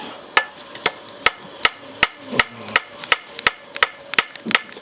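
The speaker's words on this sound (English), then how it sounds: "because I'm hitting it with my hammer, I'm not losing the metal. I'm just pushing it out" A farrier's hammer strikes a horseshoe to spread and widen it, about thirteen sharp metallic blows in a steady, fairly quick rhythm, close and ringing, with no talk.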